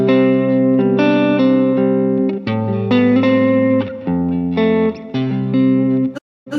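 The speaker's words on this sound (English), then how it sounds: "Currently, right now I have it in hall and it sounds like this." Electric guitar played through a TC Electronic Hall of Fame reverb pedal on its hall setting, sustained clean notes and chords ringing into a roomy wash that fills the gaps, steady and fairly loud throughout with a brief cut near the end.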